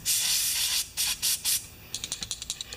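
Aerosol spray can hissing onto a bolt on the bottom of a Briggs engine on a Craftsman self-propelled mower: a long hiss, three short bursts, then a run of quick sputtering puffs as the can runs nearly empty.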